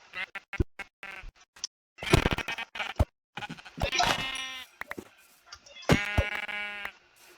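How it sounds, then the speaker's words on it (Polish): Sheep in the Minecraft video game bleat repeatedly, several close, loud, wavering bleats in a row with short pauses between them, mixed with light clicking game sounds. "Są trzy owce."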